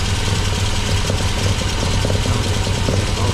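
An MGB engine on rebuilt 45DCOE carburettors idles close by while still cold, with a slightly lumpy, uneven low rumble from unbalanced chokes, steady and continuous with no talking.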